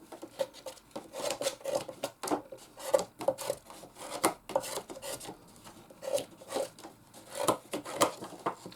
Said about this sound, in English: use the bone folder to help stick it down securely